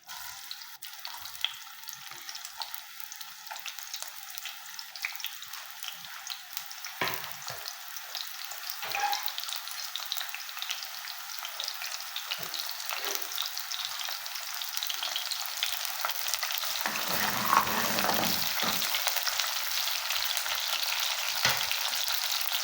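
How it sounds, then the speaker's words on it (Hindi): Sliced onions sizzle in hot oil in a pan while cooking a cauliflower and potato dish, giving a continuous bright frying hiss with occasional stirring scrapes and brief pops, with no talking. "अब हम इसमें प्याज डाल देंगे।"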